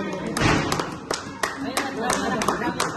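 Steady hand claps ring out at a regular pace, about three per second, crisp and close, with a faint voice murmuring underneath.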